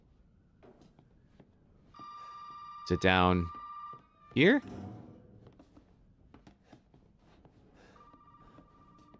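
Telephone in the Resident Evil 7 game rings in two short bursts of ringing tone, with a quieter ring near the end, while someone speaks softly between them.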